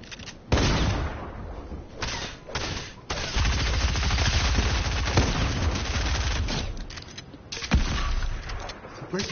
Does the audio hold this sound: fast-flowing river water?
no